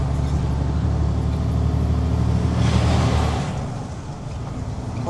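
Milk tanker truck climbing a hill on a dry road, its engine a loud, steady, close drone that swells midway and then eases slightly, with no one speaking.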